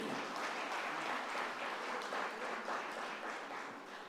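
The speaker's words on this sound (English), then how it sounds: "can we have a big round of applause for all the women out there today?" Dense, sustained audience applause at an International Women's Day event tribute, a steady roar of many hands clapping together throughout, close and full without any speech.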